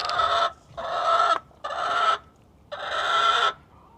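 A laying hen squawks loudly in four harsh bursts with short pauses between, close and alone, no talking.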